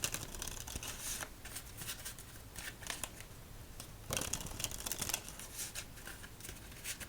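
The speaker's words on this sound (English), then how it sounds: "as we shuffle up this deck and get ready for game number 1" A deck of playing cards is shuffled up close and softly, with repeated riffling bursts and papery rustling between them, quiet and without talk.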